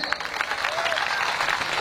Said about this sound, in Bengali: ওকে, একটা জোরে হాততালি হয়ে যাক।